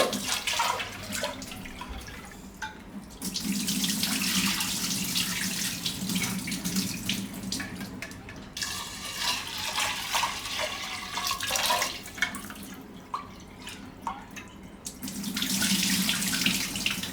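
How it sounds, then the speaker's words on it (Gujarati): Tap water runs and splashes into a bowl of lentils being washed in a kitchen, a steady close gush with short pauses and swirls as the grains are rinsed. "તો આને આપણે પહેલાં કુકરમાં દાળ લઈ લઉં. આને ધોઈ નાખશું આપણે"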